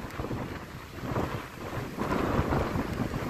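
Fierce wind coming off Lake Champlain, buffeting the microphone in loud, rumbling gusts that swell and ease over a few seconds, with no voices.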